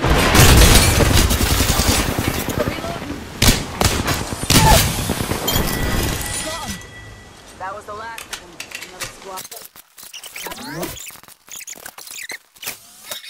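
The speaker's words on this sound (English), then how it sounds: "Grenade flung." Grenade thrown and exploding in Apex Legends, a loud burst amid dense gunfire and battle noise in the opening seconds, with a voice talking over the chaotic mix before it thins to sparse clicks and effects.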